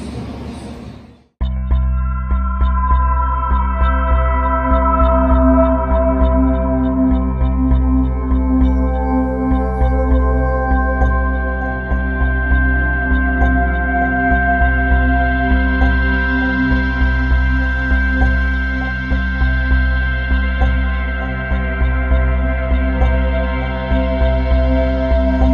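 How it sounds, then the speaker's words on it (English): An angle grinder works steadily on metal tabs on a 2019 Honda CRF450L motorcycle, starting abruptly after a brief quiet and then running loud and continuous with a sustained whine, with no talk over it. "slide the chain out of the way, and grind those tabs off, and then start sanding"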